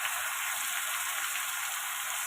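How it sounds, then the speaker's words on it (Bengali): Ginger, cumin and green chilli paste with turmeric and salt sizzling in a pan, a steady bright frying hiss with no pauses, close and even in loudness. "মশলাটা একটু কষিয়ে নেব"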